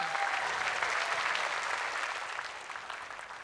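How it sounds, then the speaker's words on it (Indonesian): A crowd applauds with dense, steady clapping that slowly fades toward the end. "Beri tepuk tangan dulu dong sebelumnya."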